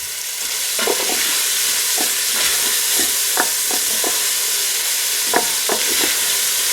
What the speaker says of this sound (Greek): Στο ίδιο λάδι θα προσθέσω το κρεμμύδι.